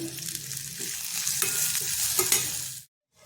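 Tomato and capsicum frying with chili powder and salt while being stirred, a close, steady sizzle with scraping spoon strokes that stops abruptly near the end.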